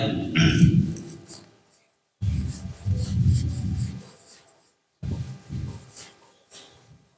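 Writing being erased from a board in a classroom-style lecture setting, heard as three separate bursts of loud, close rubbing with short quiet gaps between them.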